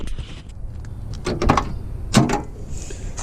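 The door of a 1976 Pontiac Formula that has sat unused for twenty years opening, a few clunks and metallic latch clicks with two sharp louder knocks, near and close up.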